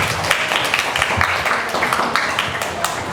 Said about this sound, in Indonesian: Tepuk tangan dulu dong buat Anggun.